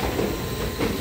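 LRT light rail train passing at a steady, loud rumble for about a second, with a continuous rolling drone and no talk.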